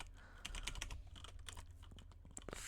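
Fast typing on an AZERTY French computer keyboard, a quick irregular run of light clicking keystrokes, faint and close, with no talking.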